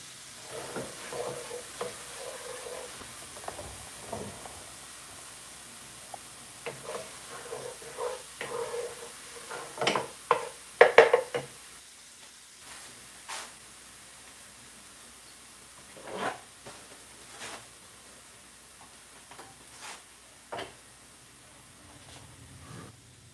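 Garlic, ginger and habanero peppers frying in a pan for Jamaican cooking, a soft steady sizzle broken by stirring clatters and a few louder scrapes, with no talk over it.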